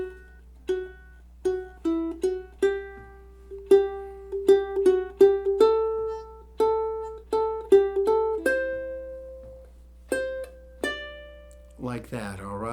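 A ukulele plays the bridge runs of a song as a series of clear single plucked notes and short ascending runs with steady rhythm and ringing decays. It is close and alone, and a brief voice comes in at the very end.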